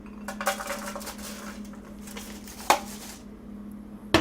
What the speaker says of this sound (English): All I'm going to do is put the chopped walnuts onto a dish